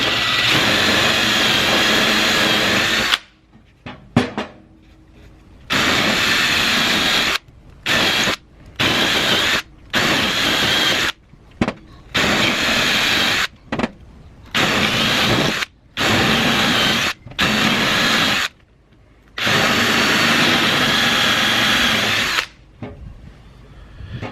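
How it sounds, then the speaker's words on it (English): A power drill whines in repeated bursts while boring holes in wood, stopping and starting many times with short pauses between each hole, loud and close. "it's hard to keep this drill straight up and down"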